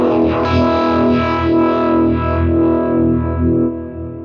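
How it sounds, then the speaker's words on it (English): An electric guitar played through a classic vibe vibrato effect swells with a loud, wavering, warbling tone whose pulsing modulation rises and falls, then damps and fades near the end. "I really like using this with a vibrato type sound like I've got here with the classic vibe"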